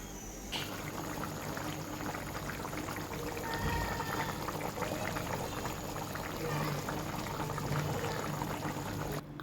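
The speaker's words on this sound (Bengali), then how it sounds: "এখন আমি জল দিয়ে দিব।" Water poured into a pan of browned mutton curry, a steady bubbling, gushing wash that starts abruptly and carries on loud and close.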